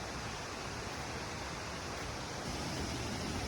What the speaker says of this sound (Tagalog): maririnig mo na ang lagaslas ng Kambal Busay Falls